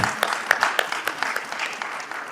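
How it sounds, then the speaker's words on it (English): A moderate round of applause from a conference audience at a nuts and dry fruits event, individual claps distinct within the steady patter, brief and even throughout. "Let's give them a warmer round of applause."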